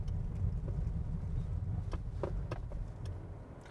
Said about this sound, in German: Also bis jetzt klingt es wie in einem Elektroauto.